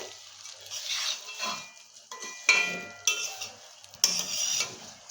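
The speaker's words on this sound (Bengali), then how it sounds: "সুন্দরভাবে ঘিয়ের মধ্যেই ভাজা হবে।" Vermicelli being stirred in ghee in a pan gives intermittent scraping and light sizzling in short bursts, with occasional sharp metallic clinks, close by.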